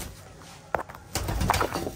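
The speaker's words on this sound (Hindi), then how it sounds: "ये किंग कबूतर है बड़े वाले।" Large king pigeons coo at a mini zoo in short soft bursts that grow louder and fuller in the second half, heard up close over a faint background.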